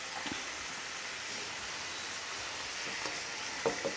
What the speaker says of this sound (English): So now I add on the shrimp.